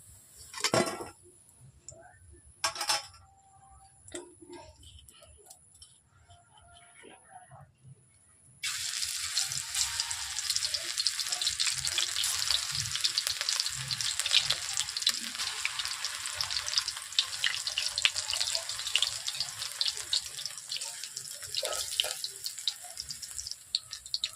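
Greens fritters (pakoras) deep frying in oil give off a dense, crackling bubbling that starts abruptly after a few quiet clinks and continues steadily for the rest of the time at moderate volume.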